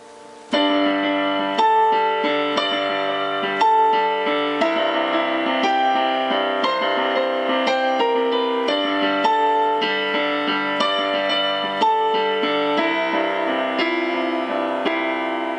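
Solo piano plays a syncopated pattern, the right hand leaping between octaves over steady bass notes, clear and close.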